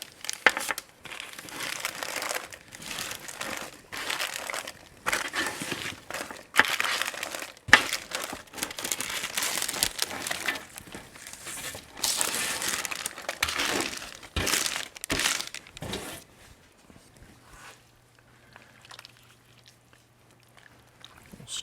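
Roasted fall vegetables tumbling into a pot of chicken stew, with close crinkly rustles, soft thumps and crackles from a spoon and container, settling into quiet near the end.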